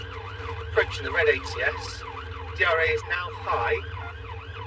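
A police car siren wails, rising and falling steadily over engine rumble inside the car, while someone speaks over a radio-like voice.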